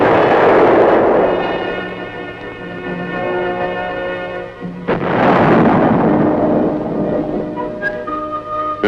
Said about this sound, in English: muzzle blast is a potential source of damage and a hazard to the crew